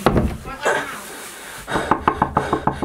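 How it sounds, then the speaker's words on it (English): Rapid series of hard knocks on a flat's door, loud and evenly spaced near the end, with people talking over and before the knocking. "Stop knocking."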